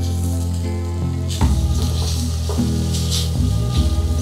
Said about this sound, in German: Jetzt rühre ich den Speck unter. Jetzt brate ich das nochmal für 1 Minute etwas kräftiger an.